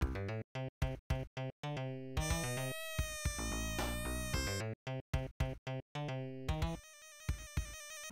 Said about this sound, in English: Hilltop Zone's music sounds like this.